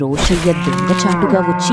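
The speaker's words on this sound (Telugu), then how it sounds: "ఆ ఆవు అరుపులకు" A cow moos in one long, loud, drawn-out call with a rich tonal quality, close by, while a person speaks briefly over it.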